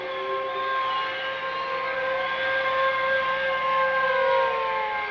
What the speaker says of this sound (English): Then the sirens would rise and then fall slowly.